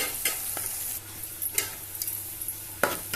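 Dried fish frying in a pan, a constant sizzle with intermittent stirring scrapes and occasional sharp utensil clicks, close and clear with no speech.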